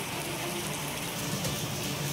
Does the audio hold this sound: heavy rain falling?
yes